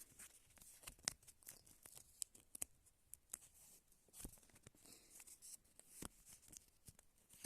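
A small paper packet from a puzzle collection is torn and opened up close, quiet crinkling and ripping with sharp crackles scattered irregularly, no talking.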